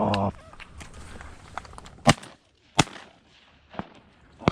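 Shots from a Stoeger M3000 shotgun boom during a late-season public land duck hunt, three or four sharp reports spaced about a second apart, moderately distant in open air, after a brief voice at the start.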